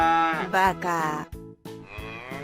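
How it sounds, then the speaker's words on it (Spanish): A cow lows in long, drawn-out moos, close and loud, with a short pause between calls and music underneath. "Vaca."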